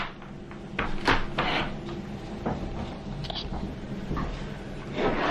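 A makeup storage drawer slides open or shut in a beauty room, giving several soft wooden knocks and rattles with faint shuffling between them, close and moderately loud.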